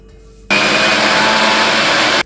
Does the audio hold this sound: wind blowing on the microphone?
no